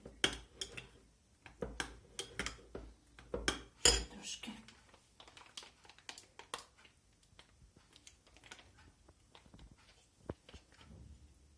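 A utensil scrapes and clinks against a bowl while stirring a zucchini cake spread mixture. The strokes are loud and clustered at first, then thin out into softer, scattered taps and scrapes.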